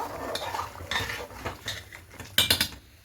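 A metal spoon scraping and clinking against a pot while salt is mixed into chicken biryani ingredients, in irregular stirring strokes with a sharp cluster of clanks near the end; no voices.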